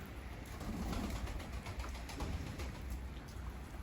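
Pigeons coo softly amid a steady patter of rain, faint and somewhat distant; the birds are soaked.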